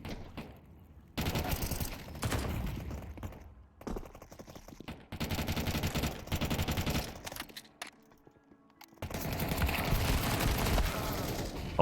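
Rapid automatic MP9 submachine gun fire in Counter-Strike 2, loud close bursts of several seconds each separated by brief pauses, with a quieter stretch before a final long burst.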